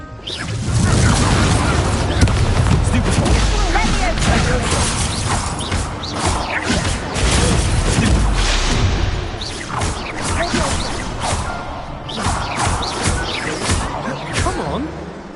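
Confringo blasting spell in Hogwarts Legacy, a series of loud booming crashes and whooshing impacts in dense succession, with bursts of spell noise among scattered speech.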